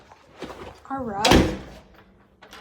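A household door is opened with one loud, brief thud and scrape at close range, amid the voices of people talking nearby.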